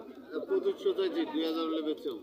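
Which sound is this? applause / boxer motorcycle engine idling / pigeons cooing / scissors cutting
pigeons cooing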